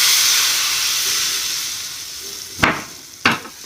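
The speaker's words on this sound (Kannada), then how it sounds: "ಈಗ ಒಗ್ಗರಣೆಗೆ ಒಂದು ಅರ್ಧ ಟೀ ಸ್ಪೂನ್ ಸಾಸಿವೆ, ಒಂದು ಚಿಟಿಕೆ ಇಂಗು, ಒಂದು 2 ಕಾಳು ಉದ್ದಿನಬೇಳೆ ಹಾಕಿದ್ದೀನಿ" Mustard seeds, a pinch of asafoetida and a few urad dal grains sizzle in hot tempering oil, a steady bright crackle that slowly eases, broken near the end by two sharp loud pops or spatters.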